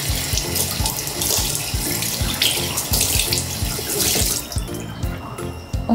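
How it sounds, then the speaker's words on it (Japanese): A bathroom sink tap runs at full flow while someone splashes water on their face to wash it, giving a loud close steady gush broken by splashing bursts and no talk. "顔を濡らします。"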